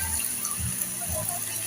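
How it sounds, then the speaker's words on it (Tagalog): Hot water is poured into a cooking pot of chicken adobo, a steady gushing pour of moderate loudness with faint background noise. "Saka lagyan na rin po natin mga mami ng mainit na tubig."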